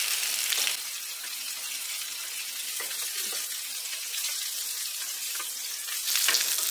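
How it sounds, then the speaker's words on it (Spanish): Bell pepper and onion sauté in rendered sausage fat, a steady bright sizzle up close with a few light stirring scrapes and a louder burst near the end. "voy a sofreír con esa grasa el chile pimiento y la cebolla"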